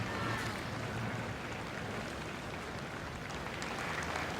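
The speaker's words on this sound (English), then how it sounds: "the applause from the crowd there" Crowd applause from spectators along the bank at the Henley Royal Regatta rowing race, a steady distant wash of clapping mixed with wind and water noise, with no voices standing out.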